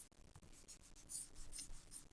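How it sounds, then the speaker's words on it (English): An eraser rubs pencil marks off a sheet of paper in quick, scratchy back-and-forth strokes, close by and faint. "I'm just going to take my eraser, and I'm going to erase away any pencil marks that I can see."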